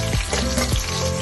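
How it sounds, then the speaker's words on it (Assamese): Onions tossed into hot oil with a dried chilli and panch phoron give a brief, close, crackling sizzle lasting about a second. "এয়া মই তেলখিনিত শুকান জলকীয়া এটা দি দিছোঁ, পাঁচফোৰণ কেইটামানো ফুটাই দিছোঁ আৰু এতিয়া মই পিঁয়াজখিনি দিলোঁ"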